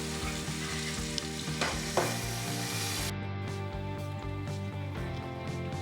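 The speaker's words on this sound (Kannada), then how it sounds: "ಕರಿಬೇವು ಮತ್ತು ಈರುಳ್ಳಿ ಹಾಕ್ಕೊಂಡು ನೀಟಾಗಿ ಫ್ರೈ ಮಾಡ್ಕೋಬೇಕು" Chopped curry leaves and onion frying in oil in a pan, a loud close sizzle under a droning tonal hum, with stirring scrapes at intervals.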